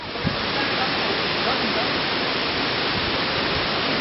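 Hyatrung waterfall in eastern Nepal roars as a dense, steady rush of falling water, loud and unbroken for the whole stretch with no voices over it.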